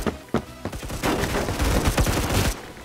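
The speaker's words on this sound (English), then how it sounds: "The bullet whizzing sounds like space guns in the distance." Rapid gunfire from the Phantom Forces video game crackles in dense, overlapping bursts, loud and continuous across the moment with no talk.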